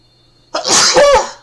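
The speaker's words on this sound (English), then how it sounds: "Oh, pardon my sneeze." A single loud, close sneeze from a character in the video game Tales of Graces f, a sharp breathy burst with a voiced tail, lasting under a second.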